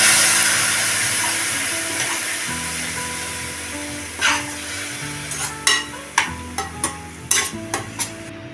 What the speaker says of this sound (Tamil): லேசாக தண்ணி ஊற்றி கிளறி விட்டுடலாம்